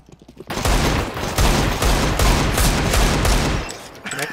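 A burst of rapid gunfire erupts after a brief quiet start, sustained shots cracking loudly for about three seconds before tapering off.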